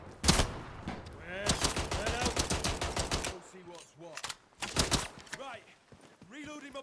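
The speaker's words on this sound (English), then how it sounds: "I don't like the SMG." Submachine gun bursts in Atomfall: rapid, sharp automatic fire in several close, loud strings, with short gaps between volleys and a voice speaking in the pauses.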